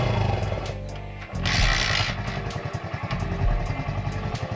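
A motorcycle engine kick-started and left running, with a loud, steady, close mechanical putter, a brief dip and then a surge, and continuous rattly idling throughout.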